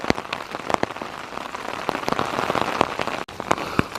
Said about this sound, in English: it started raining again